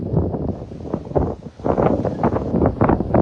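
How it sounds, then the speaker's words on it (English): Steady wind blustering across the microphone, gusting in uneven surges with a brief lull in the middle. "it's very windy actually today"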